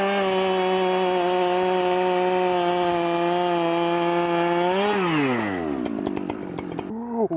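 A big professional chainsaw runs at a steady high-revving whine, then bogs down and drops in pitch as it bites into a thick piece of timber. Loud and close, it ends in rough, chattering cutting noise.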